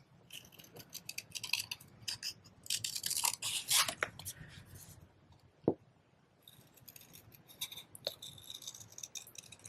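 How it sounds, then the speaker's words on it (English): Paper snips cut out a paper umbrella shape in short, quiet crisp snips and crunches, with a soft snap near the middle and a few faint rustles between cuts. "I'm going to cut this umbrella out really quick"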